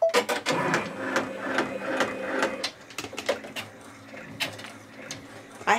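A Brother PR1055X 10-needle embroidery machine stitches lettering on fabric over cutaway stabilizer, giving a close, steady rapid mechanical chatter with repeated sharp clicks and thumps and no talk.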